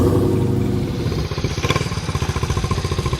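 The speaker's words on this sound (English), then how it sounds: "Everyone's on pit bikes" A Honda pit bike engine runs close by, steady at first and then breaking into a fast rhythmic chugging pulse with a bit of mechanical clatter, with no talking.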